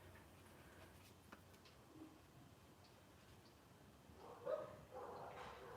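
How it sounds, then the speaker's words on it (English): Dogs bark outside, faint and distant, with a few scattered barks rising slightly louder toward the end against a quiet indoor background. "Oh, the dogs are barking."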